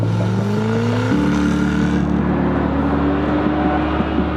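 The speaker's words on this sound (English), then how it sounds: "First thing I noticed about the car is the kind of roar of it" A loud, continuous Jaguar sports car engine roar heard from inside, its pitch stepping up as the engine revs through the gears.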